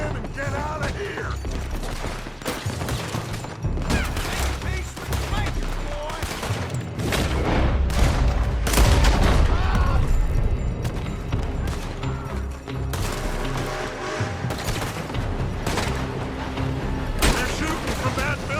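Gunfire in Red Dead Redemption 2 during a shootout from a building, a dense ongoing fusillade of shots and booms with mechanical clatter. It is loud and continuous, layered with score and effects throughout.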